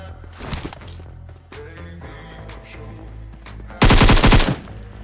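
Gunfire in a battle royale video game, a burst of rapid automatic shots cutting in loudly near the end over a busy background of game sounds and scattered earlier pops.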